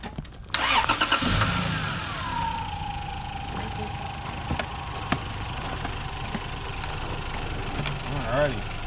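A Lexus GS300 is jump-started: the starter cranks briefly, then the engine catches and settles into a steady idle. The sound is close by, with a few knocks and faint background noises over the running engine.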